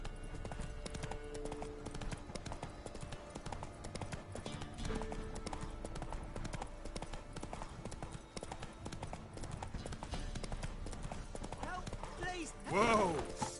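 Horse hooves clip-clop in a steady galloping rhythm through The Witcher 3 video game, sustained over layered game music and ambience, with a brief louder flourish near the end.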